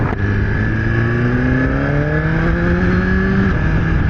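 A Suzuki GSX-R1000R superbike accelerates with a loud, close engine whine that climbs steadily in pitch after a quick upshift near the start. Wind noise runs underneath, and no one speaks.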